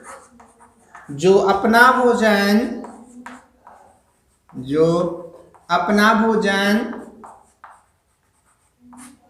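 A pen or marker scratches on a classroom board while a teacher's voice talks loudly over most of it, with short quiet pauses between phrases.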